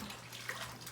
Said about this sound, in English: I'm gonna give my hands a rinse again.